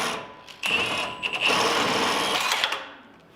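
An impact gun hammers at a ball joint on a Chevy Silverado or GMC Sierra truck, a close, rapid mechanical rattle that starts abruptly and runs in loud bursts for a few seconds before trailing off.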